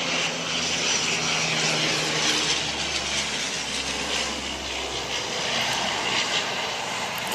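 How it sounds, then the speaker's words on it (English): A Dash 8 Q300 turboprop airliner arriving to land at Wellington Airport, a steady loud broadband engine roar with a low droning hum that holds throughout without voices. "It's the dash 8 coming in from Blenheim."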